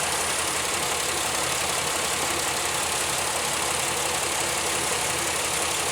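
A Pontiac Aztek engine idles with a steady, loud, constant drone that holds an even level for the whole stretch, recorded close, with no talk.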